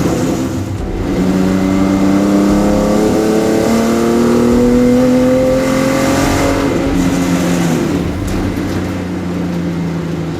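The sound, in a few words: car engine driving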